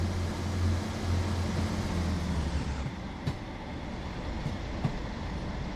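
A train in the game Train Sim World 6 rumbles and hums steadily as it pulls away from a station, with a low engine drone that gives way to rolling rail noise and occasional clicks.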